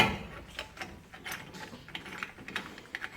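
Brake caliper piston on a BMW 120D pushed back with multi-grip pliers, giving a run of short metallic clicks and ratcheting scrapes at close range, irregular and steady, with no voices.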